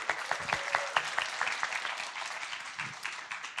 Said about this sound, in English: Hey, how about a round of applause?